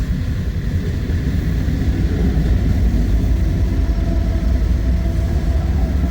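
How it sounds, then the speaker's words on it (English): Three mid-train DPU locomotives on an eastbound coal train rumble steadily and loudly at close range, a continuous low diesel drone with no voices. "These would be our mid-train DPUs on this mega."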